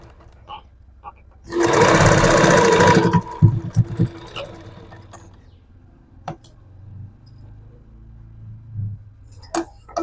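A sewing machine stitches along folded-over fabric in one loud, steady burst of rapid needle clatter lasting about a second and a half, then stops, leaving faint handling clicks and rustling.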